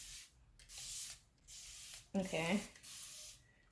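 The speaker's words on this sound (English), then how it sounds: "So what I do is I use my mister." Rose water spritzed from a wide-spray mister bottle onto the scalp, heard as three or four soft hissing bursts in a steady rhythm, close and fairly quiet, with one short spoken word between them.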